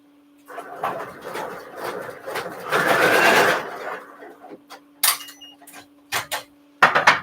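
An embroidery machine runs in a loud, busy mechanical burst for about three seconds, then falls to scattered clicks and sharp taps.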